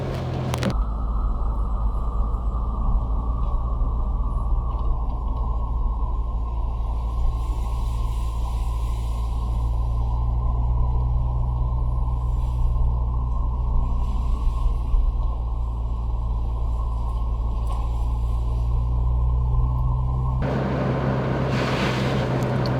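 A Citroen BX with a monopoint-injection engine cruises along, a steady loud low drone of engine and road noise heard from the cabin, with a shift in tone near the end.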